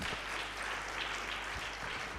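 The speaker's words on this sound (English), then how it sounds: "Can we please have a huge round of applause for all our esteemed guests?" Steady applause from an audience welcoming esteemed guests at a law conclave, a dense, even patter of clapping that fills the whole stretch at moderate distance with no talk over it.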